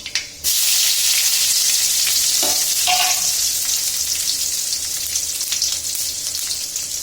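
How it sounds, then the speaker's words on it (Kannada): Fenugreek seeds fry in a hot pan for majjige huli sambar, giving a loud, close, continuous sizzle with a couple of brief stirring scrapes early on and no voices. "ಚೂರೈ ಚೂರು ಮೆಂತ್ಯ ಹಾಕಿ ಬಂದ್ಬಿಡುತ್ತೆ ಅದರದ್ದು ಸಿಪ್ಪೆ ಸ್ವಲ್ಪ ಹಾಕಿ ಫ್ರೈ ಮಾಡಬೇಕು"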